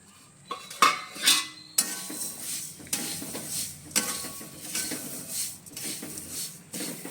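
Coriander seeds stir-roast in a little oil in a metal pan, with a spoon repeatedly scraping and clinking against the pan in irregular bursts, close and fairly quiet.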